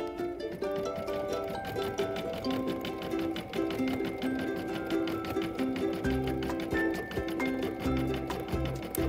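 An embroidery machine stitches a blanket stitch on a Sunbonnet Sue appliqué design, running steadily nearby with a fast rhythmic needle chatter and shifting motor tones throughout.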